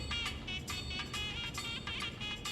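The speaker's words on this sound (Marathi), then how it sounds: "तुझा फोन वाजतोय." A mobile phone rings with a bright electronic melody in repeated short bursts, close and clear over a soft background murmur.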